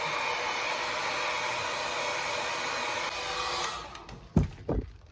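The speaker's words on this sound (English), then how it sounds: "I'm gonna go ahead and blow dry just a little bit." A hair dryer blows steadily on a 16-inch highlighted deep wave wig, a close, continuous whoosh that cuts off near the end, followed by a couple of knocks.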